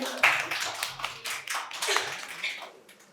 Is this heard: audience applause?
yes